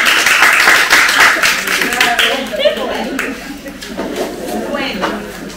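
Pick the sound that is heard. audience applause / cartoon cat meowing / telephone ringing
audience applause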